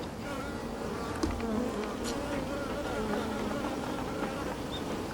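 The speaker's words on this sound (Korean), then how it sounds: "꿀벌은 날개를 진동시켜 나는 소리로 교신을 하는 것으로 생각됩니다." Honeybees hum continuously as their wings vibrate, a steady close buzz with a few brief louder passes, no talk.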